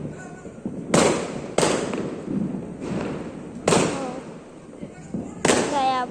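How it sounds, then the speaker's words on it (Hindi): Diwali firecrackers burst outdoors in four loud, sharp bangs spread over several seconds. Each bang leaves a crackling tail, and voices talk between and over the blasts. "बाहर तो बहुत ज्यादा पटाखे फूट रहे हैं।"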